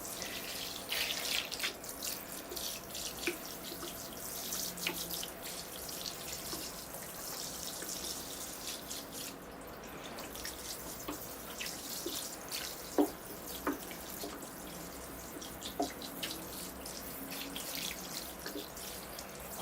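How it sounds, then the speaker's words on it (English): Water runs steadily from a hose or watering can onto moss in a bonsai pot holding a thuja, a soft continuous splashing with scattered drips, faint and close. "here I go with the water. Washing all that moss so it's nice and green looking"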